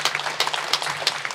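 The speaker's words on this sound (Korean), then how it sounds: "우리 주님께 국가에 박수 드리겠습니다." Church congregation applause at a Korean prayer meeting, a short, fairly quiet burst of many hands clapping in irregular, overlapping slaps.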